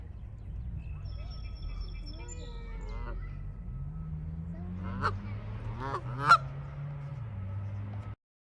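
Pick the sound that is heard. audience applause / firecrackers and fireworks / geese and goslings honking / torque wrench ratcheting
geese and goslings honking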